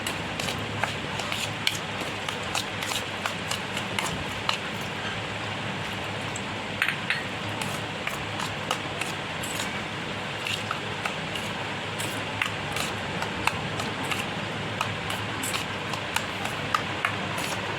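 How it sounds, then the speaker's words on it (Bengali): A semolina and yogurt idli batter is stirred with water in a bowl, making a steady, soft squelching and scraping with light clinks, close and continuous. "তারপর আমি এই সুজি আর দইটাকে মিশিয়ে নিয়ে এর মধ্যে একটু জল দিয়ে দেবো যাতে এটা ভালোভাবে মিক্স হয়ে যায়"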